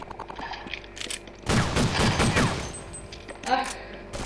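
Counter-Strike 1.6 gunfire: a quick burst of rapid shots with mechanical clicks in the middle of the moment, then a brief single shot later, fairly quiet game audio.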